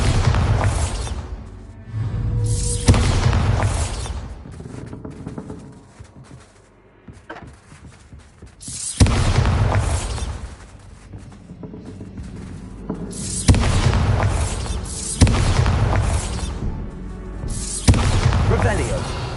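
Bombarda blasting spells from a Hogwarts video game, several loud booming bursts at intervals of a few seconds, each with a rumbling decay, mixed with game sounds and a speaking voice.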